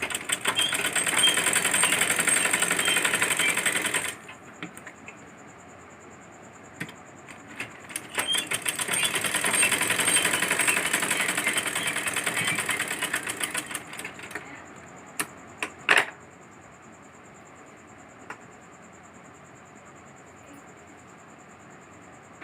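A sewing machine stitches fabric for a baby frock in two loud runs of rapid, even clatter separated by quieter pauses, then ends with a few isolated clicks and light handling sounds.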